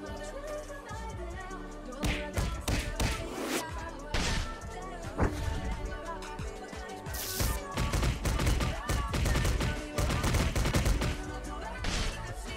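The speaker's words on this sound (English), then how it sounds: "So now I'm gonna show you the Gojo special attack from movie, that is Jujutsu Kaizen movie 0." Gojo's special attack from Jujutsu Kaizen 0, recreated in a Roblox game, sounds as a rapid barrage of sharp, explosive blasts and impacts. The bursts come in loud clusters with short lulls between them.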